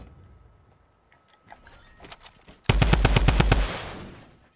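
Drum gun in a video game's playground mode fires a rapid burst of about ten loud, evenly spaced shots, preceded by quieter clicks and handling sounds and trailing into a fading echo.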